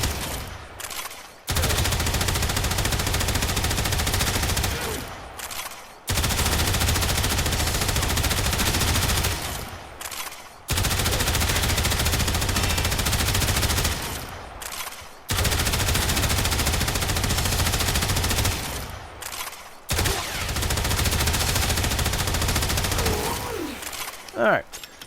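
Sustained bursts of automatic gunfire from kitgun weapons in Warframe hammer at a heavy gunner enemy, loud and continuous, with short gaps between long volleys and no voices heard.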